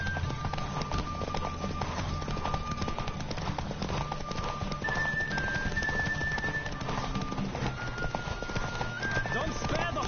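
Hooves of a horse galloping in a race in the video game The Witcher, a steady clip-clop running under music and talking voices throughout.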